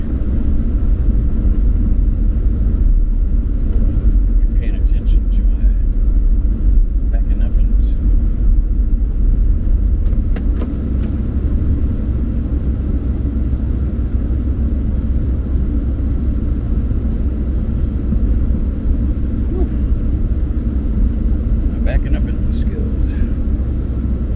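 Car reversing slowly into a snowy parking spot in Minnesota, a steady low engine rumble and road noise filling the cabin, with a few faint ticks and clicks over the hum.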